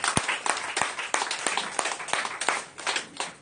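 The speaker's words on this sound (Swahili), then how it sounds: "Pigia Bwana makofi makubwa." A church congregation claps hard together during a Sunday service, producing dense, continuous applause with sharp individual claps punching through at a steady rhythm, with no one talking over it.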